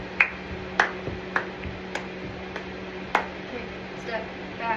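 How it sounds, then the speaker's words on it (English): Sharp hand claps land at uneven intervals through a line-dance routine, fairly close and crisp, with a steady low hum underneath and no voices over them. "we're going to do another set of claps"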